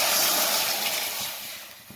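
Water poured into a pot of golden fried onions for Egyptian lentils and rice gives a loud, bright steam hiss that fades gradually over two seconds, with no voices.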